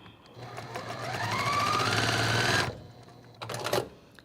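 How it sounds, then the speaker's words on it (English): A sewing machine restitches a quilt block in a long, loud continuous run of whirring stitches, stops, then gives a short second burst. "So I'm going to just pull this and then restitch on top."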